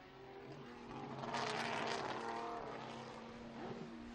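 A race car in the Estoril Classics passes at moderate distance, its engine note swelling to a peak and fading away over a few seconds, fairly faint over a steady background hum.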